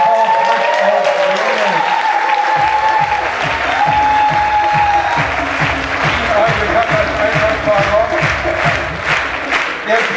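At a sports gala night, a large indoor audience applauds loudly and continuously, then slips into rhythmic clapping. A voice is heard briefly near the start.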